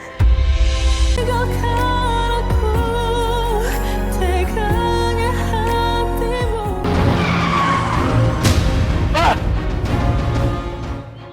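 A car skids dangerously on a road, a long loud tire squeal and engine roar swelling over dramatic music that runs throughout, with a harsher screech near the end.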